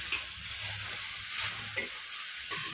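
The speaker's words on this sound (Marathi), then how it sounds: "त्यात तव्यावर लगेच टमाटो पण भाजते." Tomatoes roasting in oil on a griddle give a steady close sizzle and hiss, with a few soft scrapes of stirring over the continuous frying.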